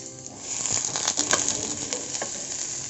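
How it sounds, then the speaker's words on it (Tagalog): Cabbage rolls frying over low heat in a pan until browned, a steady close sizzle with brief crackling spits and light scraping, with no voices. "Ipafry nyo siya hanggang mag-brown lang yung labas."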